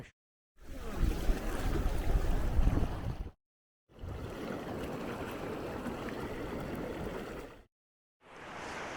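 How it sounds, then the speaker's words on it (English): Small half-metre swell breaking on an empty beach in Bass Strait, heard as broad rushing surf washing in long sustained surges with brief gaps between, mixed with wind buffeting the microphone. "There's always a bit of swell in Bass Strait, and there's a bit breaking on the beach at the moment"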